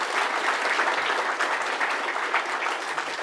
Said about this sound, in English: So big round of applause for our new patrons.